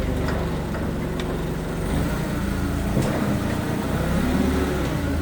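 A 2008 Mitsubishi Caterpillar 5000lb forklift drives over a bump, its engine humming steadily with a brief knock and rattle midway, close and continuous.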